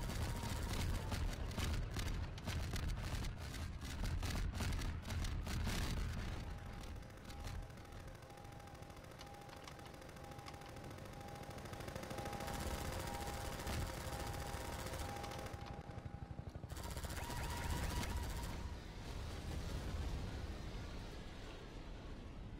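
Gunfire in Half-Life 2: dense, rapid machine-gun bursts for several seconds, then continuous fire and rumbling action with a steady whine, ending in more heavy bursts.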